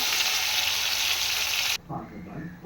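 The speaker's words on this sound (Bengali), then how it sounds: "এবার এই ইঁচড়টাকে ভেজে নেই।" Pieces of young jackfruit frying in hot oil give a loud, close, continuous sizzle that cuts off abruptly partway through, leaving quiet kitchen clatter and low room noise.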